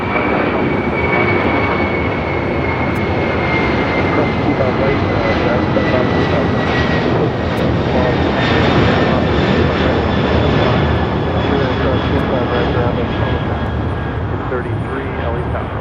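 A China Eastern Boeing 777 jet airliner at LAX roars steadily and loudly for the whole stretch, a broad continuous engine rush with a faint rising whine on top, with airport radio chatter and voices running underneath.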